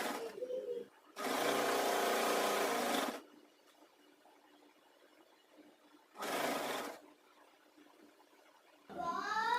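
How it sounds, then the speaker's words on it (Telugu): A sewing machine stitching the neck piece of a girls' uniform skirt, with two loud whirring runs, one about two seconds long and a shorter one later, separated by quiet pauses, and brief voice sounds at the edges. "కార్నర్లో నీడిల్ని ఇలా దింపుకొని క్లాత్ని తిప్పుకొని స్టిచ్ వేసుకోండి."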